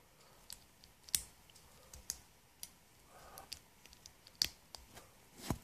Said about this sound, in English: take this piece, sandwich it between these two pieces